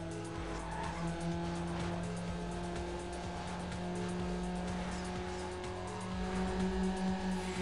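Race cars in the Need for Speed Underground video game, a steady engine drone with tire squeal and skidding, holding loud throughout and rising slightly near the end.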